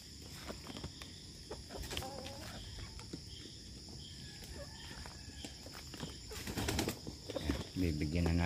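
Chickens cluck softly in the background while footsteps shuffle nearby, with insects chirping steadily and a voice speaking briefly near the end.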